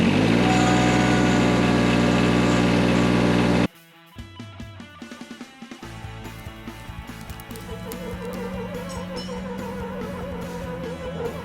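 An old John Deere lawn mower drones loudly and steadily, then cuts off abruptly; after a moment the engine sputters and catches again, settling into a rougher, uneven running rumble nearby.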